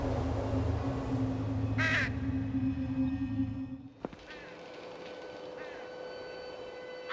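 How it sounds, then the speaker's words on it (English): Crows caw in The Lost Crown, a ghost-hunting adventure game set in a weed-overgrown graveyard, with two short harsh calls rising over a steady low ambient drone before the scene shifts to quieter background hum. "Large black crows."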